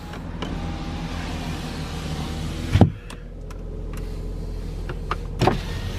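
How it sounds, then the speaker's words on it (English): The driver's front power window of an 07 Santa Fe with a manual 5-speed runs down with a steady electric motor whine, ending in a soft clunk, then a second brief thump a few seconds later, close by and with no talk. "Let me try my windows real quick. It's the driver's side front,"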